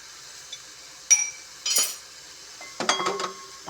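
Metal lid clinks onto a cooking pot of string beans, squash and shrimp, with a few sharp close clanks and a short rattle as it settles.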